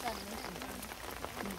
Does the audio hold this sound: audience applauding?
no